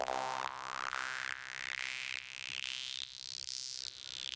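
CPM DS-2 synthesizer playing through a high-pass filter: bright, buzzy tone pulses repeat roughly every half second, with a resonant sweep that climbs steadily in pitch; loud, close and alone.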